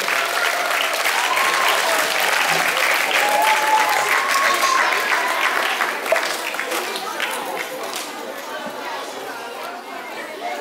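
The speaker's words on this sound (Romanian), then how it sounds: "Îi aplaudăm și pe ei." An audience at a dance contest in Timișoara claps for the second-place winners, sustained loud applause mixed with crowd chatter that gradually thins toward the end.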